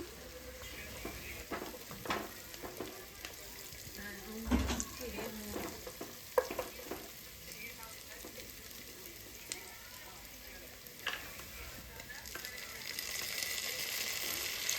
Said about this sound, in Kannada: ಇದನ್ನು ಗೋಲ್ಡನ್ ಬ್ರೌನ್ ಆಗೋ ತನಕ ಇದನ್ನು ನಾನಿಲ್ಲಿ ಫ್ರೈ ಮಾಡ್ಕೋತೀನಿ.